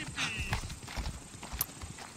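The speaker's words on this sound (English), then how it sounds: "I can get my horse." Horse hooves clip-clopping at a steady walking rhythm in the Assassin's Creed Odyssey video game, fairly close, with a brief whinny early and faint game ambience.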